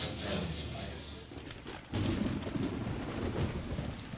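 Rain falls steadily with rolling thunder during practice week at the Isle of Man TT motorcycle races, a low rumble building midway and continuing under the hiss of the downpour, moderately distant.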